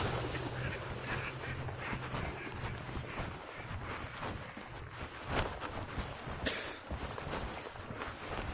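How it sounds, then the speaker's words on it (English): Ducks on a shallow creek, with faint scattered quacks over a low, steady rush of flowing water and a single sharp knock partway through. "Got some ducky ducks."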